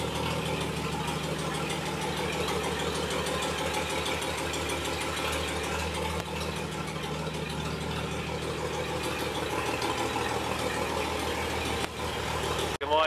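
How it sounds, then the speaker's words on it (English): An old Apache barn-find truck, unrun for about 20 years, idles steadily with a low, continuous rumble and faint knocking, running unbroken throughout with no talk. "I think sitting there idling, running pretty dang good."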